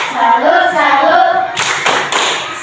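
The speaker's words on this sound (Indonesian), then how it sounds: "Kita beri tepuk salut dulu." A classroom of students claps a rhythmic salute in unison. A short burst of group chanting comes first, then a few sharp, loud synchronized claps in a quick pattern close by.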